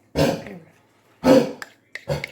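A dog with an itchy throat gives a harsh hacking cough, then two more coughs after a pause, close and fairly loud in a quiet room.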